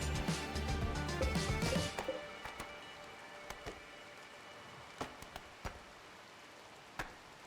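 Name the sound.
rain in the video game RimWorld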